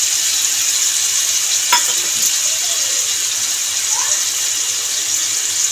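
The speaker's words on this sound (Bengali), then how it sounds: "তার সাথে দিয়ে দেবো কাঁচা লঙ্কা আর আদা বাটা।" Green chili and ginger paste fry with grated tomato in a pan, giving a steady, loud, hissing sizzle with a single sharp clink, close up and alone.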